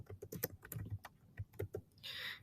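Keys clatter on a computer keyboard in quick irregular taps, close and fairly quiet, ending with a brief hissing rustle.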